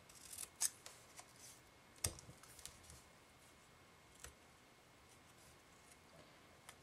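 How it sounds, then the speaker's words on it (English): Scissors snip through cardstock to shape a small banner, a few faint, quiet cuts spaced irregularly against near silence. "So let me cut a little bit of this off and then just cut in the middle and up each side."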